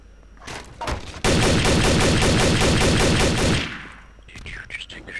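Rapid automatic gunfire in Garry's Mod, a dense, loud burst of evenly spaced shots lasting a couple of seconds, preceded by a few single shots and followed by fading echo and brief game sounds.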